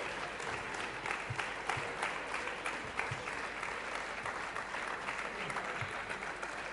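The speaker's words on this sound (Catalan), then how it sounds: "Un aplaudiment també per aquests artistes" A crowd applauds at a town fair opening ceremony, the Candelera fair. The clapping is steady and dense and lasts throughout, with a voice speaking faintly beneath it.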